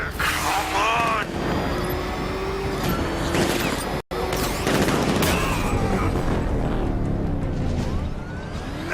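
Sustained heavy gunfire in Batman: Arkham Knight, dense crackling volleys with mechanical clatter and whining tones, loud and continuous apart from a brief cut near the middle, with voices shouting over it.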